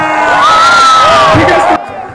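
An audience cheers and shouts loudly at an event. High whoops rise over the crowd for about two seconds, then drop off sharply into quieter murmur.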